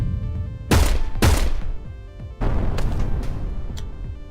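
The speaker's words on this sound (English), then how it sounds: "There also seems to be a lot of explosions on the ship. It's just everything's blowing up." Explosions aboard a ship in the video game Heat Signature: several loud booming blasts in quick succession, followed by crackling, rumbling debris.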